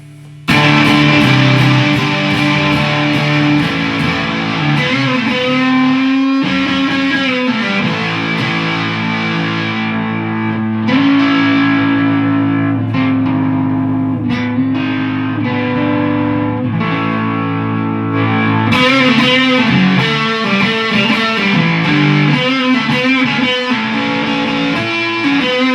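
An electric guitar through a boost pedal plays thick, driven chords and sustained notes with a fuzzy boosted tone, loud and close, with short pauses between phrases.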